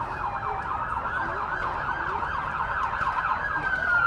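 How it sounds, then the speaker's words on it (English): Police car siren wailing continuously during a traffic stop at a Garden Grove National Night Out event, heard from a few hundred feet away, loud and steady over low traffic rumble. "So as you can hear, the lights and siren, and they're trying to initiate a traffic stop."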